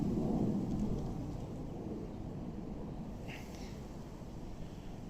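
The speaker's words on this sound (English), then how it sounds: "And there's also planes flying over." Aircraft flying over a garden, a broad low rumbling roar that stays steady and fairly loud throughout, with a brief faint bird chirp partway through.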